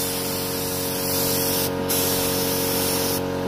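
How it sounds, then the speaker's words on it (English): A spray gun hisses steadily and close while painting the body of a 323 wagon, continuous across the whole stretch with a constant electrical hum underneath and no voices. "I'm spraying quite a big area because I want to make sure I don't miss anything"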